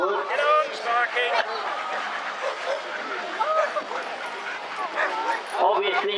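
Several dogs yip, whimper and bark excitedly at the Speech House vintage show, close and fairly loud, mixed with steady crowd chatter and talk throughout.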